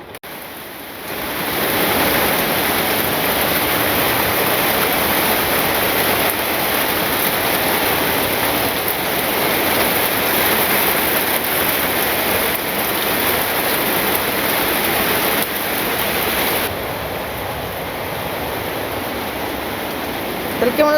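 Heavy rain pours down in a village in a dense, steady rushing hiss that fills the whole stretch, easing slightly toward the end.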